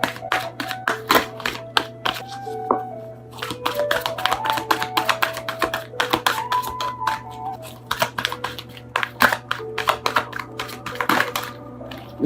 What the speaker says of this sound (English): I don't know why I'm having a hard time shuffling.